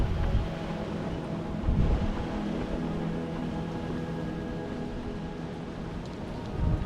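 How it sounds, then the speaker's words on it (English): Strong wind blowing across a hilltop temple in Hua Hin, Thailand: steady broadband rushing and buffeting against the microphone, with a few louder gusts, no talk. "Up here, you can really feel how strong the wind is blowing today"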